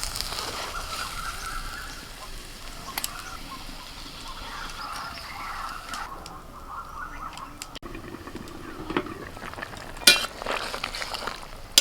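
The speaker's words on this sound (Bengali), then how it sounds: "নাড়াচাড়া করতে করতে দেখুন এরকম শুকনো শুকনো হয়ে আসছে" Mutton being stirred as it fries dry in a wok, with a faint sizzle and intermittent scraping and clattering of the spoon against the pan, fairly quiet and without speech.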